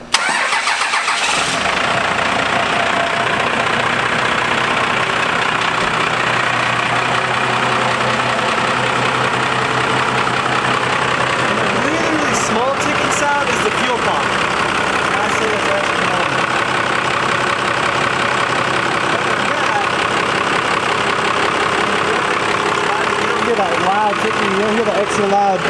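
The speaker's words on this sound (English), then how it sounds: "Extra loud exhaust" A loud, rumbling Ford Powerstroke diesel truck engine idles steadily with a deep, throaty extra-loud exhaust, with a brief rev or change in tone partway through.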